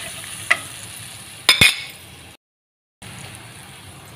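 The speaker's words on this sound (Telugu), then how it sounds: "ఇక్కడైతే ఉల్లిపాయలు, క్యాప్సికమ్, అల్లము, తెల్లగడ్డ దంచుకున్నదైతే ఇలా అయితే బాగా వేయించుకోవాలన్నమాట" Chopped onions, capsicum, ginger and crushed garlic frying in ghee, a soft sizzle with a few sharp clinks of a utensil against the pan, then a brief silent gap before the sizzle returns.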